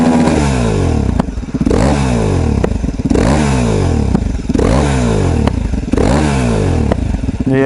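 KTM 950 SM motorcycle engine revving hard and loud up close in repeated rising sweeps, with popping and banging crackles between revs.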